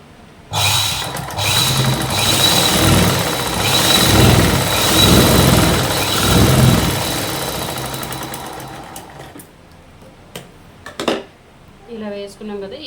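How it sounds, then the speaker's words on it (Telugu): A sewing machine stitching a bed cover runs in one loud, steady mechanical whir for about eight seconds. Then it stops, leaving a few clicks and handling noises and a brief voice at the end. "ఇక్కడి నుంచి ఇక్కడికి ఒక స్టిచ్ వేయాలి"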